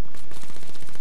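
Rapid automatic gunfire in Call of Duty Black Ops 3 on PlayStation 3, a loud, dense burst of shots lasting about a second with no talk.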